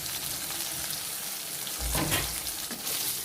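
Green chillies and garlic frying in oil for a tangy green chilli chutney, a faint close sizzle with a brief louder burst of stirring partway through.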